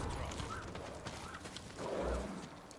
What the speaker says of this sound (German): Ach, das ist das Digital Deluxe Pferd.